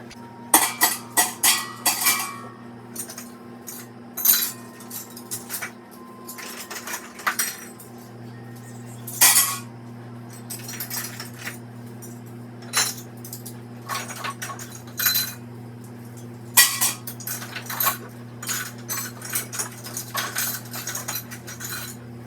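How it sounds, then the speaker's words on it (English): Metal canning jar rings and lids clink and jangle as they are gathered by hand, in irregular bursts of bright clattering over a steady low background hum. "I need to get myself 20 rings and 20 lids."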